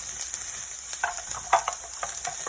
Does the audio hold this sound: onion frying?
yes